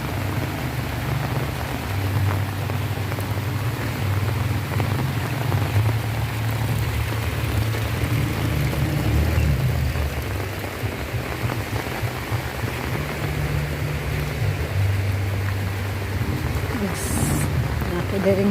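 Heavy rain falls in Surigao City as a steady, dense downpour throughout. Someone talks over it.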